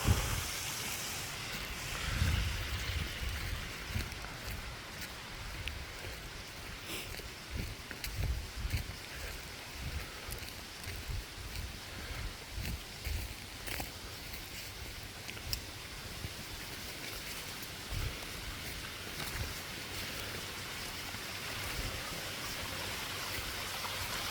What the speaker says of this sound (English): So as you can see from here, it's quite impressive. Quite a large waterfall.